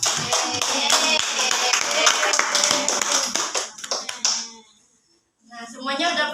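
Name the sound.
classroom clapping for correct answer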